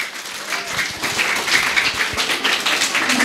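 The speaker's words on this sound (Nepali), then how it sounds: "त्यसकारण उहाँहरू सबैलाई एकपटक जोरदार तालीका साथ" Audience at a Nepali extempore speaking contest breaking into sustained applause for the participants, dense clapping filling the room for several seconds.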